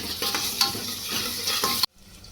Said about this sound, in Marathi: हे सगळं व्यवस्थित हलवून घेऊयात।